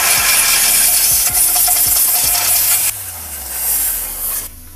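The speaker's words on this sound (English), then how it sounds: "and then you take the air compressor" An air compressor nozzle blasts air into the grooves of a car's interior plastic trim, a loud, close, steady hiss with rubbing and clicking underneath that suddenly drops to a quieter, fainter flow near the end.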